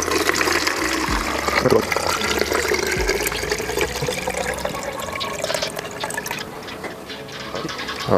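Liquid for bokashi compost made with paper bran is poured steadily into a container, a continuous gurgling splash lasting several seconds at close range, with a brief spoken word near the start.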